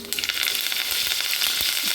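Cumin, fenugreek seeds, a piece of cinnamon and curry leaves crackle and sizzle in hot oil for a tempering, a close, steady frying hiss with small pops that runs on without talk.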